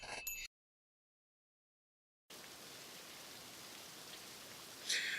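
Rain falls in a video game, a steady hiss of rainfall starting abruptly after a stretch of silence and continuing evenly, with a brief brighter splash near the end.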